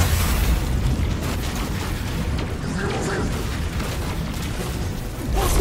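Missile strikes in the Destiny 2 video game produce a heavy, sustained rumbling roar of explosions, loud and dense throughout with deep booming low end and a final burst near the end.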